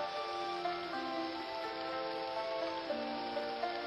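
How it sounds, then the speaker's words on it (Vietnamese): Light drizzle falls steadily, a soft, even patter of fine raindrops that stays constant throughout, with no voices present. "Lúc này, từ không trung mưa rơi lất phất"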